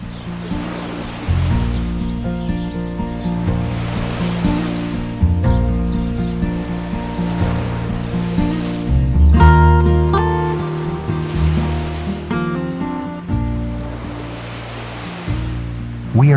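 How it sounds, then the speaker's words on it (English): Waves surge and wash inside Rikoriko, a huge volcanic sea cave in New Zealand, swelling and receding in slow rolling pulses with a deep, booming, reverberant rumble and no voices. "We are inside Ricorrico, the largest sea cave by volume on the planet"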